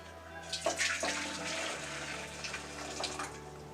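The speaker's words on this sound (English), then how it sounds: "So immediately we add some hot water, of course, to the tray here." Hot water poured from a kettle into a metal cooking tray, a steady splashing pour with bubbling gurgles that shift in pitch midway, close and moderately loud.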